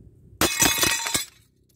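A rock dropped onto glass items lands with a sudden loud crash and shatter, followed by a rapid burst of tinkling, breaking fragments that stops abruptly about a second later.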